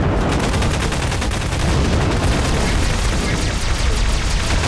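Rapid Garry's Mod pistol gunfire crackles continuously in a dense, loud barrage of sharp shots with no pauses.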